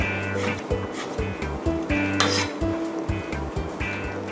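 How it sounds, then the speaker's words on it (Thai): A knife slices soaked shiitake mushrooms thinly on a cutting board, producing a steady run of quick, evenly spaced chopping taps, close and moderately loud, over a faint tonal background. "หั่นเห็ดหอมนะคะให้เป็นชิ้นบางค่ะ"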